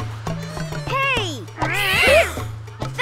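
Cartoon kittens meow in a string of rising and falling cries, several overlapping and one long drawn-out wail, over steady background music in a children's pirate adventure show.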